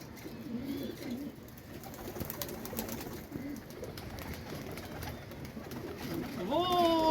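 Pigeons coo softly in a rooftop loft amid low background noise, with a few louder coos rising near the end.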